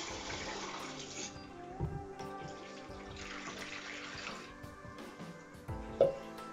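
Tap water runs steadily into a sink while a tie-dyed T-shirt is rinsed by hand, a continuous close splashing flow with brief shifts and a few handling knocks.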